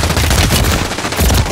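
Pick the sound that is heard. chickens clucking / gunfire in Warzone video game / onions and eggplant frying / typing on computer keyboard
gunfire in Warzone video game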